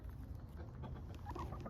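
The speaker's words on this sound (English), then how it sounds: "There's my Rhode Island Red chicken, Carla." A Rhode Island Red chicken clucks in short, soft bursts close by, set against steady low outdoor background noise with no talking.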